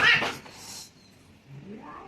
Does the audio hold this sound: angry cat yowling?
yes